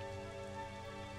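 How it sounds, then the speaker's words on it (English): Steady rain falls in the video game Dragon Quest 11, a soft, even hiss held under quiet layered background music, with no voices. "Rain started falling."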